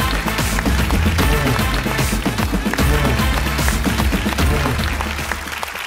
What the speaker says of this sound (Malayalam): എല്ലാരും നല്ലൊരു കൈയടി കൊടുത്ത് സ്വാഗതം ചെയ്ത അവരെ.